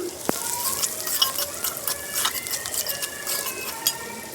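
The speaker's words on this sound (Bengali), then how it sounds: "আমি কাঁচা মরিচ সামান্য রসুন শুকনা মরিচ আর পেঁয়াজ তেলে দিয়ে দিয়েছি" Green chilli, garlic, dried chilli and onion fry in oil in a kadai for a banana stem bhaji, a soft, fairly faint sizzle with light stirring and one sharp tap near the start.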